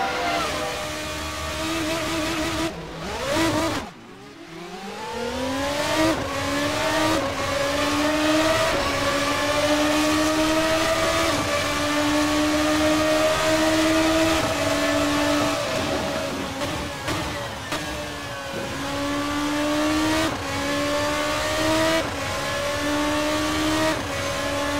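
An RSS Formula 2 single-seater screams around Road America in Assetto Corsa, a loud, sustained high-revving engine note with rapid upshifts, a brief drop as it brakes hard, then steady climbing revs.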